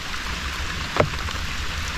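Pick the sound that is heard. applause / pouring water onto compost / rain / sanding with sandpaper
rain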